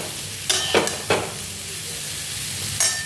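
Cauliflower curry with ground spices sizzles steadily in a pan, close by. A few quick spatula scrapes and stirs cut through it. Nobody speaks during the cooking.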